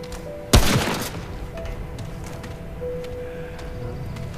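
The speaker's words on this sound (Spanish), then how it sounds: "Te disparo por ver qué pasa." A single sharp gunshot rings out in the video game Remnant, a loud crack followed by a short decaying tail over quiet game ambience with faint tonal hums.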